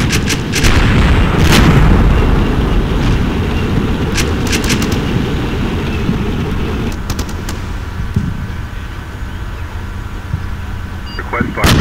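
Heavy rumbling artillery barrages pound away in the tactical war game Combat Mission: Shock Force, with loud sustained booms and sharp cracking impacts that fade into a lower rumble.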